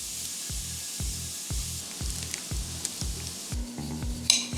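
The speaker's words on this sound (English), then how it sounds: "I'm moving on to the ground beef. Using beef tallow to cook this in." Ground beef sizzles and fries steadily in beef tallow in a pan, a close, continuous hiss with occasional stirring scrapes and a few brighter crackles near the end.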